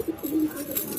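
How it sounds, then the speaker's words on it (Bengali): Pigeon cooing close by: a short run of soft, low, throaty coos rolling together within about a second, clear and unaccompanied. "খুব সুন্দর পায়রা একটা ছিল,"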